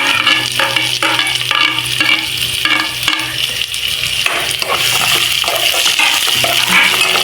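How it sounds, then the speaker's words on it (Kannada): Onions and chillies sizzle and fry loudly in a pan for mushroom curry, with a steady crackle and repeated scraping stirs and clinks throughout, close and continuous with no talking. "ಕಟ್ ಮಾಡಿ ಇಟ್ಕೊಂಡಿರೋ ಆನಿಯನ್ಸ್ ಹಾಕೊಳ್ತಾ ಇದ್ದೀನಿ"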